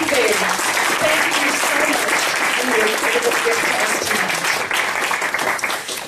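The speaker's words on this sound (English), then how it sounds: "I'd like us to give Gary and Penny a very warm hand of applause and thank them." Warm audience applause after an evening talk on the San people and their plants, steady, full clapping throughout with some voices mixed in.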